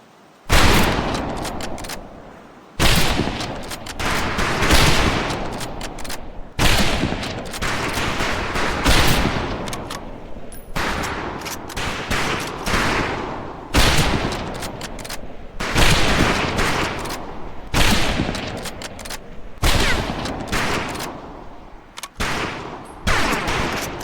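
Rifle fire crackles across a training range in Medal of Honor Pacific Assault, with loud, repeated shots in dense volleys and short gaps, each burst echoing and decaying before the next.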